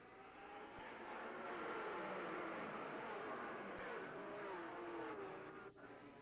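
Super late model stock cars racing at Concord Speedway in a Big 10 Series event, a steady, loud roar of several engines running together at close range under a caution, with no break through the whole stretch.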